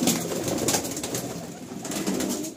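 Domestic pigeons coo in a loft, soft repeated rolling calls close by over a busy, steady background hum with no talking.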